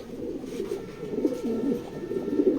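Racing pigeons coo at a loft, a low, throaty, rolling call repeated several times close by. The cooing swells and fades unevenly under no clear talk, with a soft murmur of other birds around it.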